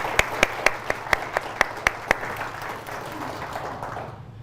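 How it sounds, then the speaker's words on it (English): Audience at a regional clinical lab network meeting applauding; a few sharp, distinct claps ring out near the start over a soft bed of scattered clapping that thins and fades toward the end. "please everyone, a round of applause for Erin and all that she does for the Clinical Lab Network"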